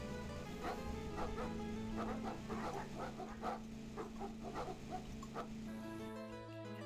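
A dog in the retro lawn-mowing video game Hover Bovver barks in a quick run of repeated yaps over a sustained tonal game soundtrack, fairly loud and continuous.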